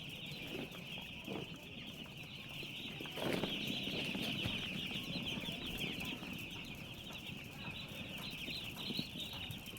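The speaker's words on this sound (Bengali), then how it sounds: "মুরগি" Two-day-old chicks in a poultry brooder cheep in a dense, continuous high-pitched chorus that holds steady throughout, with no talking.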